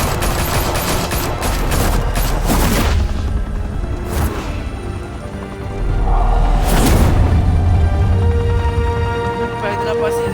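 Gunfire in the Batman Telltale Series video game: loud, dense bursts of rapid shots and booms that fill the scene, with voices speaking over the firing.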